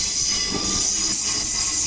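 A Perth Airport Line B-series electric train pulls away from a station, giving a steady loud rolling rumble with hiss and a high wheel squeal running throughout, no voices.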